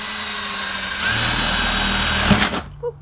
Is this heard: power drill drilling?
yes